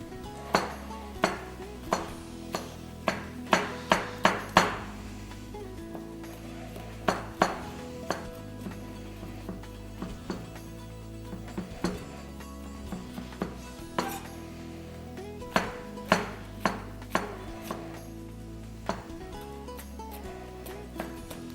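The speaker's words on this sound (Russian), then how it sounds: "А теперь я порежу немножко сладкого перца и добавлю также его к жареному луку." Sweet pepper is cut with a knife and added to fried onion in a kitchen, giving quiet, close taps and chops mixed with light clinks of cookware at a loose, irregular rhythm.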